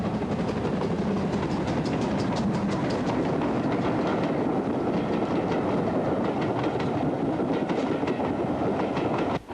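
A steam train rumbles steadily past at close range, wheels clattering rhythmically over rail joints in a continuous loud roar.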